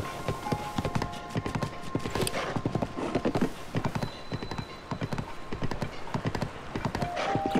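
Horse hooves clip-clop in a fast, steady rhythm throughout in The Legend of Zelda: Tears of the Kingdom, close and fairly loud, with a faint whinny in places.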